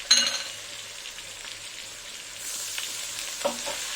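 A spice paste with potato and onion sizzles and fries in a pan, a close crackling hiss with a couple of stirring scrapes.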